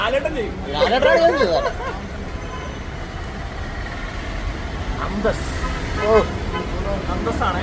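Vehicle horns toot in a lilting, musical pattern on a rainy road, loud and nearby, with traffic rumble and someone talking over the scene.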